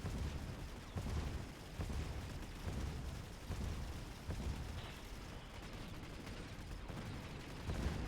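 A turret cannon in the Mechabellum video game fires again and again in a dense battle din, its irregular heavy blasts layered over constant rumbling and crackle.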